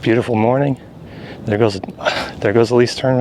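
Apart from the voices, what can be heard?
None of the usual background noises is heard.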